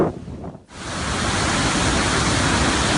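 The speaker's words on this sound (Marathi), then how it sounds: "मांजरा धरण कशा पद्धतीने ओसंडून वाहतोय" Water overflowing from the brimming Manjara dam, a dense, loud rushing roar that swells up after a brief quieter moment and then holds steady and unbroken.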